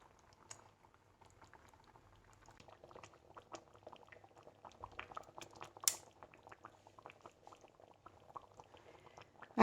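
Kerala fish curry with coconut, kodampuli tamarind and fish pieces boils in a kadahi, giving soft, irregular bubbling and popping that stays quiet and close, growing slightly busier toward the end, with no voices.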